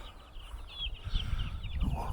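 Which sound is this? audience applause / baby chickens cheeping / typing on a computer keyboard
baby chickens cheeping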